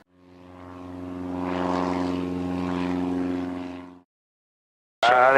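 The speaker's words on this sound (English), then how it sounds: "Come fly with me as we take off from Isla Grande Airport in beautiful San Juan," A Cessna 172N single-engine propeller plane throttling up for takeoff at Isla Grande Airport in San Juan, Puerto Rico. Loud, steady propeller drone with a harmonic hum swells and holds for about four seconds, then cuts to silence before a brief burst returns.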